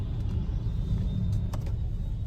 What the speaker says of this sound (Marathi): इथे आम्ही असल्या डेंजर ट्राफिकमध्ये अडकलो ना